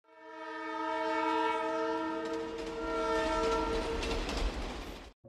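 A train travelling from Delhi to Lahore in a film sounds a long, loud horn over the rumble and clatter of the wheels on the rails.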